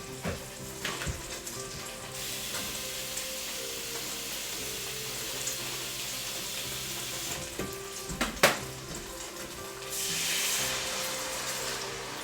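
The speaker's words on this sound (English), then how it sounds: "you just want to let that simmer away for a bit now" Vegetable stock bubbling and sizzling in a pan for Thai pad krapow, a steady close hiss with a few sharp utensil knocks and a brighter surge of sizzle near the end.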